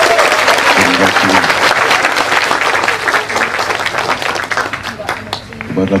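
Loud audience applause at an Islamic religious gathering, dense steady clapping from a large crowd lasting about six seconds, with a few voices and a low hum mixed in beneath it.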